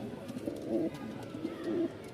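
Fancy pigeons coo softly and repeatedly in low, rolling calls, fairly close, over a quiet background with no talking.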